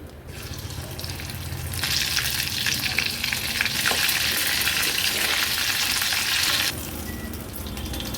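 Oyster fritters (kalva bhaji) deep frying in hot oil give off a loud, steady sizzle that swells partway through and later eases back to a softer crackle. No voices are heard.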